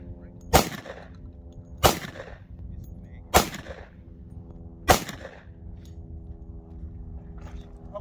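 An M&P handgun fires four sharp, loud shots at a shooting range, spaced about a second or more apart, each with a short echoing tail. No one speaks between the shots.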